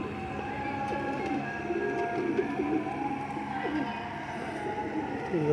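Dab wali breed pigeons, including a male with a pink beak, coo in low warbling phrases amid steady background noise, with a faint mechanical hum running throughout.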